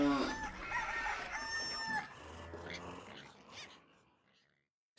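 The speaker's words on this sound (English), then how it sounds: "there was a tremendous clucking and bleating and mooing" A farmyard chorus of animals clucking and calling, led by a loud, close rooster crowing, then thinning out and fading into silence over a few seconds.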